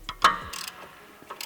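An 18mm wrench ratchets on a tight nut securing a suspension end link to the shock on a Tesla Model 3 or Y, giving a short burst of close mechanical clicks with a sharp onset, then fading to quieter workshop noise.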